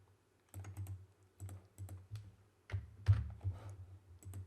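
Close computer keyboard typing comes in short irregular bursts of soft key clicks with brief pauses between them, and no voice over it.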